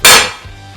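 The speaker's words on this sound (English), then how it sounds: "Jammed screws can be loosened with the blow of a hammer on the large striking cap" A single sharp metallic strike of a hammer on the large striking cap of a screwdriver handle rings out and decays quickly, close and loud, with no other sounds around it.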